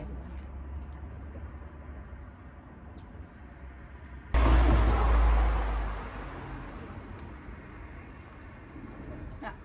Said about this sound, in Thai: เสียงรถดังแห้งในเด้อขอโทษขออภัย